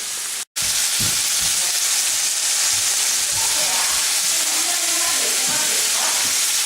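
Ribeye steak pieces fry steadily in a pan with a loud, continuous sizzle and crackle, broken only by a brief cut near the start.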